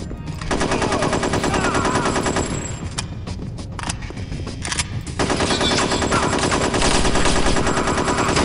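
Automatic gunfire in the video game Chaser, a loud sustained rattle of rapid shots that breaks off briefly into a few scattered single bangs before resuming in a long continuous burst.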